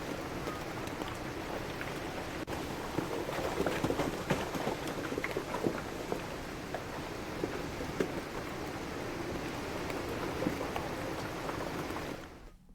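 Steady rain falling on a hillside village in Joshimath, Uttarakhand, during prolonged monsoon downpours, a continuous dense patter with scattered louder drops that fades out at the very end.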